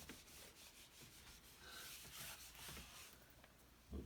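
Eraser rubbed briskly back and forth on paper during a math review session, soft close scrubbing strokes in quick succession, faint and unaccompanied by talk.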